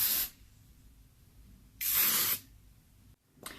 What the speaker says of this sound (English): And of course, then I'll finish with some hairspray.